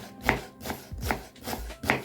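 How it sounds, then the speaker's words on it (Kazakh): A kitchen knife finely chopping onion on a board, with five distinct, evenly spaced chops, close and crisp, and no talking. "өте майдалап турап аламыз."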